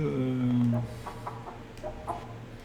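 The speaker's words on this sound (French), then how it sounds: "Donc si je le nourris, le coq..." Rooster clucking in the video game Arc Raiders, a few short tonal clucks near the start followed by softer scattered clucks over a low background hum.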